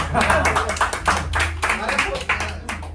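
A crowd at a gathering of Magahi singers claps and applauds together, steady and fairly loud, with voices audible underneath throughout.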